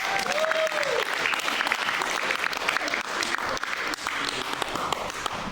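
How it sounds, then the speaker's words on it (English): Audience applause fills a comedy magic show, a steady wash of clapping from a full crowd that stays loud and even throughout with no voices standing out. "give me a round of applause, everybody."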